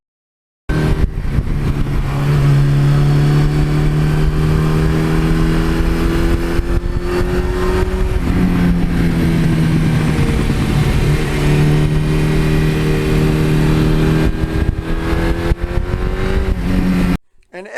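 A Suzuki GS1100E motorcycle engine runs loud and close, its pitch rising and dipping as it revs through gears, a continuous throaty drone for most of the clip.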